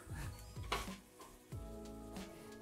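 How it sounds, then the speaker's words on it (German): Soft sizzling of onions sautéing in a pot, with occasional clinks and scrapes of a utensil stirring; no voices, fairly quiet overall. "Die lassen wir noch mal kurz ein bisschen glasrig anbraten."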